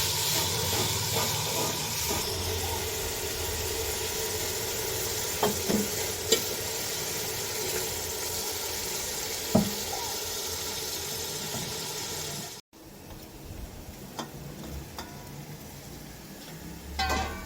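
Onions fry and sizzle in a pan, a steady dense hiss with scattered scrapes and clinks of stirring, dropping briefly near the end before resuming more quietly.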